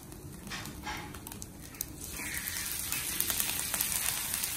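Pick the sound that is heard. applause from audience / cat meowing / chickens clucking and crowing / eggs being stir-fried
eggs being stir-fried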